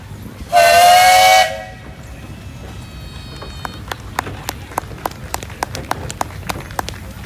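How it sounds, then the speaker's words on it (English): A loud steam whistle from a 1919 Emerson-Brantingham steam traction engine sounds in a single sustained blast of about a second. Afterward the engine chuffs in a steady rhythm of sharp exhaust beats, with a fainter whistle tone fading in the background. "How about a whistle there, Travis?"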